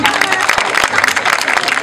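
Loud, close crowd applause with scattered cheering erupts for a juggler in a contest at an outdoor grape-harvest festival, thick and continuous with a few sharp individual claps.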